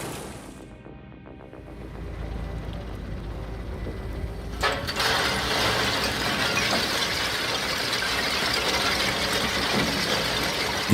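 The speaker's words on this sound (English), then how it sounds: "The SBR4 uses vibration isolation and progressive screening stages to separate coarse rock from fines efficiently." An SBR4 screening plant separating coarse rock from fines, with a low mechanical rumble that swells into loud, continuous rattling and grinding of rock on vibrating screens, no voices.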